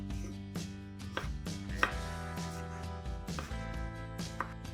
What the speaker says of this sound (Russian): а затем режем их кубиками.